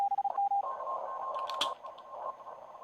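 Morse code CW on an amateur HF radio during a contest: a steady pure tone keyed in short dits and longer dahs, with a brief burst of static partway through, moderately loud against a quiet hiss.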